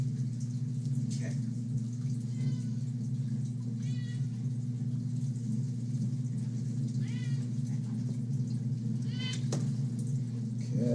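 Several cats meow in short, rising cries scattered over a steady low hum, mid-distance and moderately loud.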